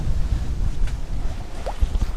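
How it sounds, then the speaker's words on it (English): Wind rushes over a solo sailboat at sea on a misty, foggy ocean crossing, a steady low buffeting roar with faint water sounds. "The wind is coming up slowly."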